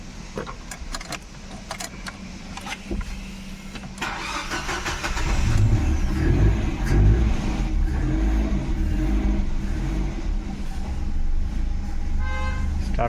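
A Ford Fiesta, just back together after a cylinder head and head gasket repair, cranks on the starter and catches, its engine settling into a loud, steady run close by with a few light metallic clinks.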